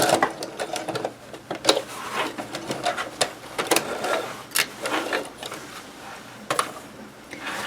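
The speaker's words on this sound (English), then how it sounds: "I think what I can do is just go in and sew it to each side." Sewing machine stitching the sides of a zippered fabric tote bag, running in short bursts of rapid mechanical whirring with brief pauses between runs.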